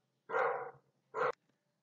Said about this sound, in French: je vais aller négocier avec lui pour qu'il cesse d'aboyer en espérant que ça marche.